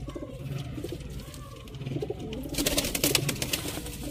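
Sialkoti pigeons coo in low, repeated throaty phrases close by, followed near the end by a brief burst of wing flapping or rustling.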